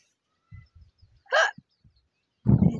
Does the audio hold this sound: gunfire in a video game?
no